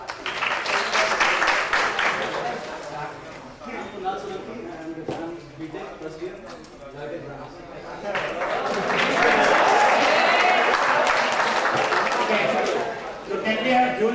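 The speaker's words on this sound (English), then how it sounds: "can we have huge round of applause for the first winner here?" An audience at a prize-giving for student winners in Guwahati bursts into sustained clapping that swells loud and holds for several seconds, with talk heard over and between the applause.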